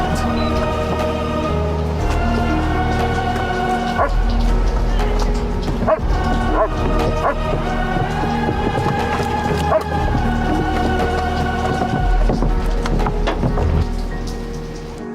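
A dog barking in a film scene, sharp barks and yips cutting through a loud, dense mix of music and background noise, fairly close and prominent.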